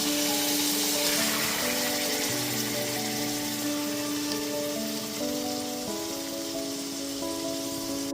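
Marinated chicken pieces dropped into fried onion paste for restaurant-style chicken rezala, giving a steady, close sizzle and crackle that runs unbroken under low tonal background music, with no talking.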